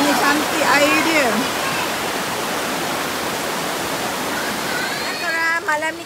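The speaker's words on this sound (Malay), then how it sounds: "Bunyi cantik air dia." A clear river stream at the Sungai Sendat campsite in Ulu Yam rushes steadily and fairly loud throughout, with voices talking over the water near the start and the end.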